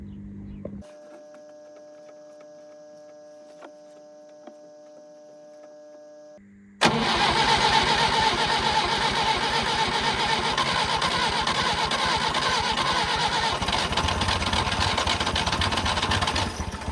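An old Peugeot 403 pickup cranks and its engine catches at once, then settles into a loud, steady running rumble close by, with a quieter mechanical hum before the start.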